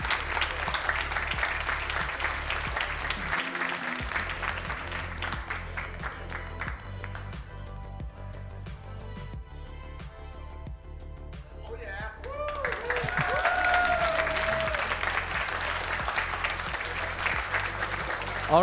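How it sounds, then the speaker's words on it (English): Sustained audience applause fills the hall at a Splatoon 3 tournament finals event, dense clapping that holds steady, dips briefly midway, then swells louder again, with voices and crowd noise mixed underneath. "So yeah, again, big applause, I think, for everybody that made this event what it is."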